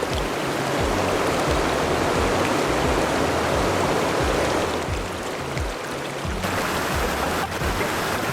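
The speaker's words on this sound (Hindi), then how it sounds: "नदी में तेजी से बहता पानी जब पत्थरों से टकराता है" Fast river water rushes over stones at the foot of high hills near caves, a loud, dense, continuous roar of churning water close by, with low thudding surges underneath and no voices.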